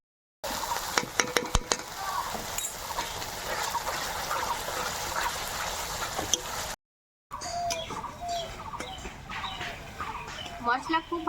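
Red chili powder sizzles in spiced oil while the masala is stirred for a mung dal and pointed gourd curry, a steady frying hiss with sharp utensil clinks, a brief break, then quieter sizzling and scraping.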